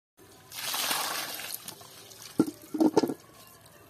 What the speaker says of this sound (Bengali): যে মাছগুলো পাঁক খেয়ে নিয়েছে সেগুলো এবার ধোয়া হবে